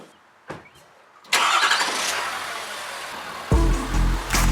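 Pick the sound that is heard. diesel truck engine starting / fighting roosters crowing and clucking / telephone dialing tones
diesel truck engine starting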